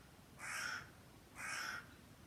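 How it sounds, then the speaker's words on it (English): Crows caw twice in a garden, two drawn-out hoarse calls about a second apart, moderately near over faint background noise. "You guys, the crows, they become my friends. As you hear, once I talk, especially if I talk something about Allah, they come."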